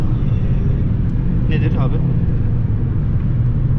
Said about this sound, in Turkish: Rüzgar sesi.